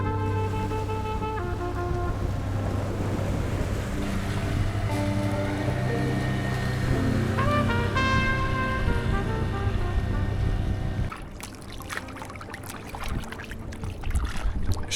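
A small local fishing boat on the sea off Indonesia, with ballast on one side only, runs with a steady engine drone. Around eleven seconds the drone drops and gives way to rougher water and wind noise.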